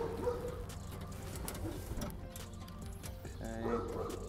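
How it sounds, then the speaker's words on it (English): Dog barking at home in the background during work on Rough Country molle panels, faint intermittent yips and barks under a continuous low hum. "sorry for the dog barking."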